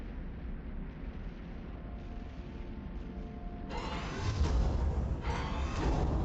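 Artillery fire in the Warhammer 40k Armageddon strategy game: a continuous low rumbling barrage that swells into heavier booming blasts midway, with no talking.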